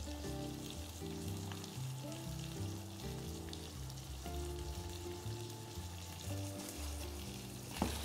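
Prawns sear in a hot pan for linguine, giving a soft, steady sizzle and crackle that sits faintly beneath louder background music, with no voices.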